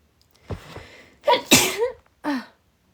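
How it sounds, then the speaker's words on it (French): A woman sneezes loudly and close by, with a sharp catch of breath before it and a short burst after, while a few voiced sounds surround it. "Je vais éternuer."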